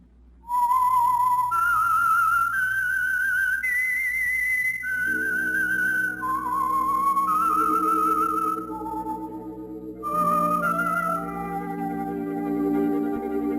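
A whistled signature tune for The Whistler, a 1946 CBS radio drama: a clear solo melody of sustained rising and falling notes, later joined by a low orchestral accompaniment, with no talk.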